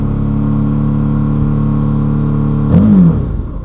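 Suzuki DL650 motorcycle engine after an STVA repair, idling with a steady loud hum before one quick throttle blip that rises and falls back to idle, close up and with no talk.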